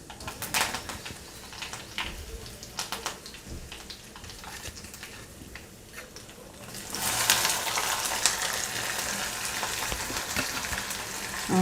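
Onion and green chilli frying in a pan for a ponnaganti leaf fry, a steady crackling sizzle that swells louder and denser about halfway through, with no talking.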